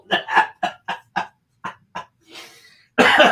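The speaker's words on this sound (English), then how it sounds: "I still have this cough that will not go away." A rapid string of about seven harsh, close coughs, then a short breath and a louder burst of throat noise.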